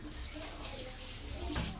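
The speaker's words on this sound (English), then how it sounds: "Let's wet the head." Water splashes close by as a man wets his head before shaving, a short continuous running and splashing sound with no words spoken.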